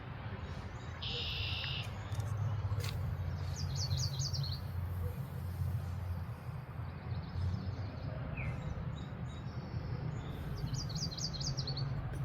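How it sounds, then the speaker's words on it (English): Spring birds chirp and trill in short bursts along a rail trail in Wolfeboro, New Hampshire, over a steady low rumble of outdoor background noise, the calls fairly distant and intermittent. "Love the sound of the birds."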